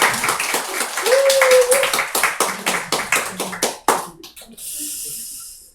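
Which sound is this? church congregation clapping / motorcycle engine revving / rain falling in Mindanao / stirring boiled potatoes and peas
church congregation clapping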